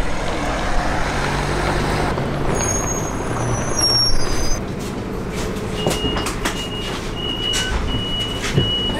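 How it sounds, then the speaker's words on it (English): A bus on the Latvia to Estonia route pulls into a stop, its engine rumbling steadily beneath sharp hissing air-brake bursts and a few thin high squeals, heard close by with no talking. "We walked up as soon as the bus got here."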